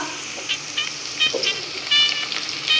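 Curry leaves go into a hot pan with capsicum and green plantain cooking, giving a steady crackling sizzle. Several small pops and stirring clinks come through close up.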